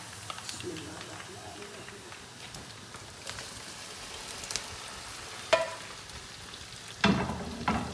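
Hissing and crackling of hot oil tempering (tadka) poured over whole masoor lentils, with sudden louder sizzling bursts near the end as more is poured in, close by.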